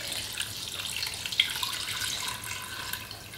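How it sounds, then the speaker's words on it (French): Water poured from a container into a pressure cooker holding pasta, a steady close splashing trickle with a few brief drips, no voices. "on va mettre de l'eau pour arriver"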